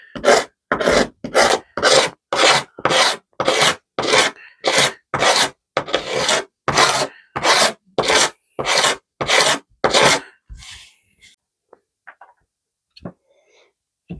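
A cheap hand file rasps steadily across a workpiece, throwing off fine shavings: about sixteen loud, evenly spaced strokes up close, then stopping and leaving near silence with a few faint clicks.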